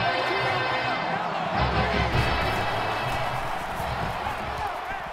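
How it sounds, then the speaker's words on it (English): A stadium crowd in the NCAA Football 20 video game, during an Ole Miss at Alabama matchup, roars and cheers continuously at a fairly loud level, with a commentator's voice running over the noise. "the crowd is always into it here"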